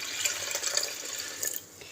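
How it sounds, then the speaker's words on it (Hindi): Water splashes and trickles as it is poured into a bowl of moong dal lentils, a brief close-up stream of liquid that tapers off near the end, with no voices. "और एक ही बॉल में इसमें पानी का ऐड करूँगी।"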